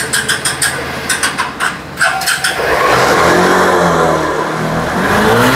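A second-hand 2013 Hero Glamour motorcycle at a used bike dealer in Kolkata: its engine blips in a quick series of revs, then settles into a loud, steady run close by.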